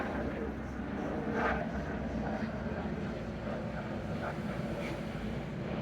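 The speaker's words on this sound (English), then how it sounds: "Busy morning for planes this morning." Low rumbling roar of airplanes passing overhead on a busy morning, steady and broadband throughout, heard outdoors alongside wind noise.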